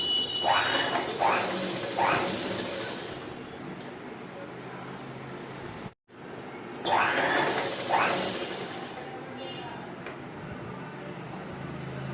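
An electric sewing machine runs in bursts while hemming the folded edge of a synthetic saree, its motor whirring steadily with short rhythmic stitching runs, briefly stopping midway before starting again, close and moderately loud.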